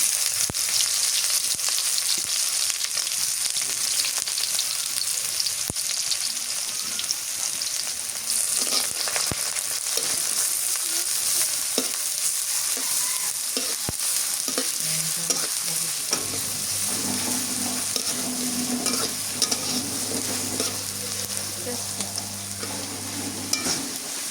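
Onions and mustard frying in oil for a pulao and meat meal, a loud, steady, close sizzle that runs throughout, with occasional light stirring ticks and a low steady hum joining near the end.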